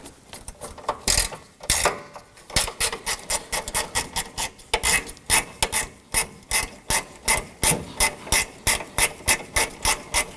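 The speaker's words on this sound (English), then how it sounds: "I'm going to go ahead and use my gear wrench to loosen and remove these" A gear wrench ratchet loosens 10mm bolts on the grille assembly of a 2018-2024 Toyota Camry 2.5L L4 during radiator replacement. It makes rapid, close, rhythmic clicking in repeated bursts with short pauses between strokes.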